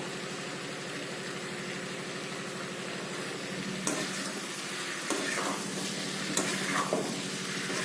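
Pigeon meat fries in a pan with a continuous close sizzle and a low steady hum underneath, broken by a few sharp scraping stirs in the latter half.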